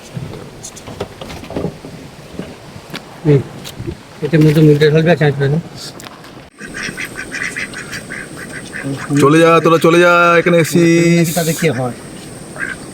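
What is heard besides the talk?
domestic ducks quacking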